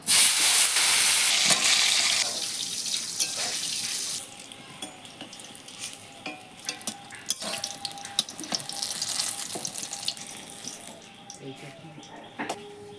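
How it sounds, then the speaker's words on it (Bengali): Eggplant pieces fry in a pan, a hissing sizzle with scattered clicks and taps, after a loud burst of running tap water at the start. "এখন আমরা বেগুনগুলো ভেজে নেব।"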